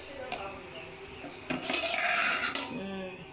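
A dum-cooked prawn biryani pot has its lid lifted, giving a short metallic clank and scrape of lid against pot, followed by a brief louder clatter and a few light knocks at close range.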